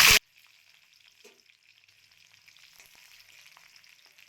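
Green cardamom pods crackling in hot oil for a jackfruit curry: after a short loud knock, a faint, thin sizzle with a few tiny pops carries on steadily and quietly.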